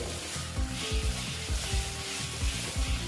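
Sliced bitter gourd, potato and pumpkin are stirred in a hot pan for a dry vegetarian chechki, giving a steady close sizzle broken by regular scraping strokes of the spatula, with no talking.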